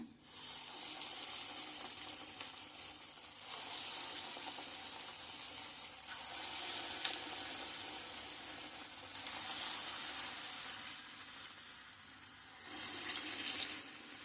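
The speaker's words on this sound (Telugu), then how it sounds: "నూనె కాగిందండి పెసర పునుకులు వేసుకుందాం" Mung bean fritter batter sizzles as it is dropped into hot oil, a loud, steady frying hiss that surges in waves as new spoonfuls go in, with no voices.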